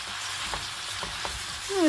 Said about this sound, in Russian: сразу же надо забрасывать грибы